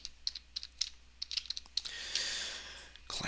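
Keystrokes on a computer keyboard while web code is being typed: a run of sharp, separate close clicks at an uneven pace, then a short stretch of steady hiss before a few more taps.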